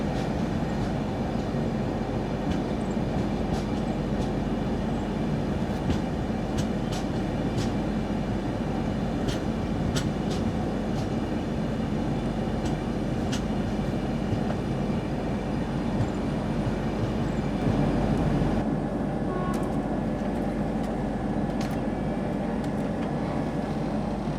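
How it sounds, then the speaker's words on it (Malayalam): Kozhikode–Thiruvananthapuram Jan Shatabdi Express arriving, heard as a steady continuous rail rumble with faint rhythmic clicks of wheels over joints, even and sustained for the whole stretch. "നമ്മുടെ കോഴിക്കോട് തിരുവനന്തപുരം ജനശതാബ്ദി എക്സ്പ്രസ് കയറി വരുന്നു"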